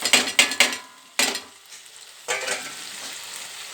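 Salt, chili powder and turmeric being stirred into oil in a frying pan for bangaladumpa pulusu: close bursts of sizzling and spoon scraping come in three clusters, fading between strokes.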